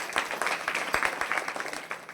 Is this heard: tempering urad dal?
no